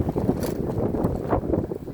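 Steady roaring wind noise buffets the microphone throughout, with rustling and gusts swelling and easing, no voices.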